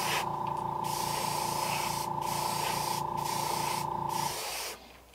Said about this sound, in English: I'm just going to spray whatever's in my brush out on this bait